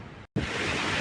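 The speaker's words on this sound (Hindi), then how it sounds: "ऐसा तूफान हो रखा है।" Strong storm wind roars as a steady, loud broadband rush outdoors in a village, briefly cut off for an instant before resuming at full force.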